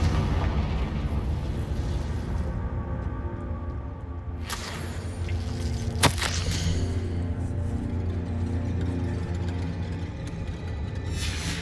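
A Confringo spell explosion in the video game Hogwarts Legacy: a dense, roaring blast over a steady rumbling background, with a sharp crack midway and a fading tail.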